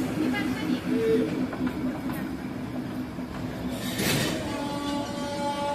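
The Darjeeling toy train hauled by a diesel engine rumbles along at close range, a steady mechanical drone with tonal whines and a brief squeal partway through.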